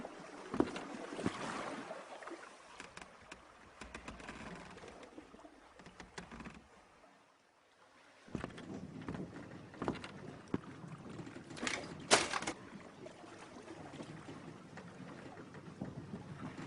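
An ancient sailing ship loaded with Corinthian amphorae passes the Cape of Sunion at sea, with a steady wash of water and wind around the hull that drops away briefly near the middle, then returns with a few sharper splashes.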